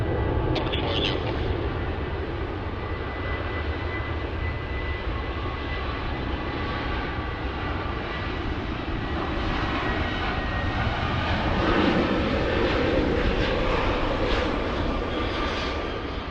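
A Qantas jet airliner lands on runway 16 right at Sydney Airport, its engine roar broad and steady at moderate distance, with radio chatter and voices faintly underneath.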